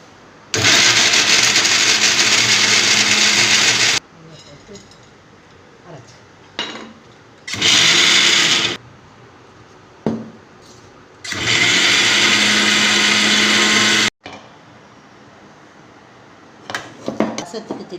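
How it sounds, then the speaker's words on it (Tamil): A kitchen mixer grinder grinds pepper, cumin and toor dal for rasam in a home kitchen. It runs in three loud bursts of whirring, with quieter gaps of clinks and handling noise in between. "இப்போ மிளகு சீரகம் துவரம் பருப்பு கொஞ்சம் போட்டிருக்கேன். திரிச்சிட்டு"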